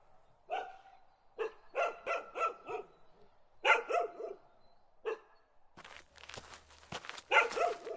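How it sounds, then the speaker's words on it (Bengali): A black dog barks in quick bursts of three to four yelps, pausing between rounds, fairly close and clear, with a burst of noisy rustle near the end. "হঠাৎ আমার ঠিক পাশ থেকে একটা কুকুরের ডাক শোনা গেল।"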